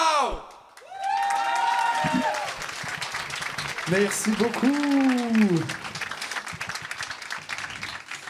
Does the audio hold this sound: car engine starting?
no